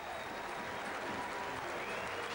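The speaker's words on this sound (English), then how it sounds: "Standing ovation from the crowd," A distant crowd at a 1998 England versus West Indies cricket test match gives a standing ovation, steady continuous applause forming a dense wash of clapping with no clear voices on top.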